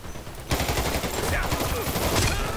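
Rapid automatic gunfire in the online shooter Dirty Bomb, a sudden loud continuous burst of close shots that keeps going to the end.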